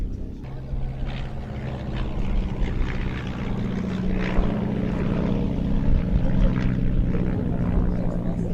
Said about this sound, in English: There's Nigel Lemon bringing up the rear in that rare Moth Major with a half Cuban